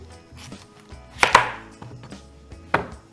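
A knife cuts through a segment of butternut squash, giving a few sharp, close chops against a board, including two strong hits and lighter taps, with no speech.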